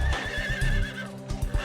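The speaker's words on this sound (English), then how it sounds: "With all exits blocked, some of the horses get spooked and try to back out." A spooked horse gives a loud, wavering whinny while horses are being loaded into a trailer, with hooves clopping and knocking on the trailer floor around it.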